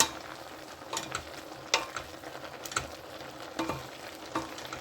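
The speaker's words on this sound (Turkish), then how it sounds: "Evet karıştırıyoruz ara ara fasulyelerimizi." Green beans with tomatoes cooking in a pan and stirred now and then, a soft steady sizzle broken by several light scraping clicks of the utensil against the pan.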